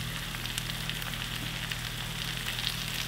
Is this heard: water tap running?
no